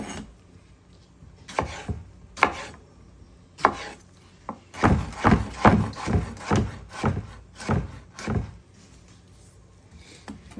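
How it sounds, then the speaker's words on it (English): A knife chops a tomato on a board: a few separate cuts, then a quick run of about ten sharp knocks in a steady rhythm, close and clear with no voices. "Cut up the tomato."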